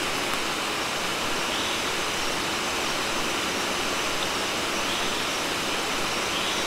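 Rushing water of a rocky stream in Borneo, a steady loud broadband roar with no break, close and unbroken throughout, with no voices.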